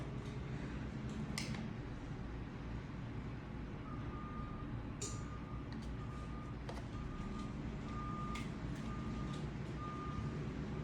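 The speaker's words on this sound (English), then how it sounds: "Garbage truck's here." A garbage truck backing up, its reversing alarm beeping in an even, repeating rhythm at a distance over a steady rumble of engine and street noise, with a few clinks and knocks in between.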